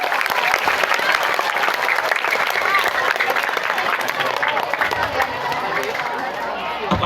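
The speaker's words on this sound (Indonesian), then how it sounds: "Tepuk tangan untuk Bapak dan Ibu guru" Students at a junior high school give their teachers loud, sustained applause, a dense wash of clapping and crowd chatter lasting about seven seconds close by.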